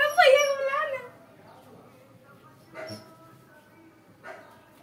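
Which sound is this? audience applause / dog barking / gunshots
dog barking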